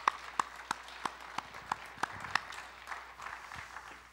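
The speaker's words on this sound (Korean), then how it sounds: "하나님께 영광의 박수를 드리겠습니다." A congregation at a Sunday church service in Daegu claps in slow, even rhythm, with roughly a dozen distinct claps sounding faint and somewhat distant against a quiet room.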